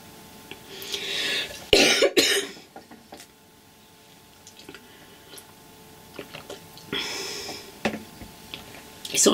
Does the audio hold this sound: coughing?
yes